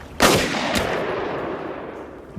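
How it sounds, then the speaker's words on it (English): A single sharp gunshot in the 2001 film Heist cracks out loud, followed by a second fainter bang and a long fading reverberant tail. "Gunshot to the head."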